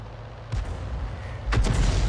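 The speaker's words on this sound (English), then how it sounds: "the enemy Arty is firing in that direction as well" Two muffled artillery booms from a 105 leFH18B2 self-propelled gun in a World War II tank video game, spaced about a second apart over a constant low engine rumble.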